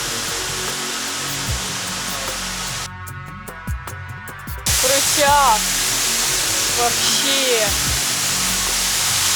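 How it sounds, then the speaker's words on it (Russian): A waterfall on Bali roars as a broad, steady rush of water, growing louder midway, while people talk and exclaim over it. "Вот там вы видите водопады."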